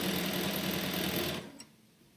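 A sewing machine runs steadily stitching fabric at a live sewing session, a loud continuous whirring hum that stops abruptly near the end, followed by a brief click.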